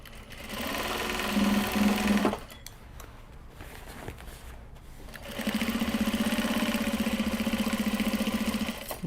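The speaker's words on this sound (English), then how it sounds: "Bobbin is winding." A sewing machine winds its bobbin while sewing fabric cake cozies, a steady motor whir running for about two seconds, pausing briefly, then resuming as a louder, even hum to the end.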